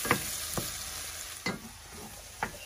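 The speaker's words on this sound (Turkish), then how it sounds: "Şimdi böyle salçasıyla kavuracağız biraz." Tomato paste sautés in butter in a pan, giving a soft, continuous sizzle broken by four short scraping stirs, with no talking.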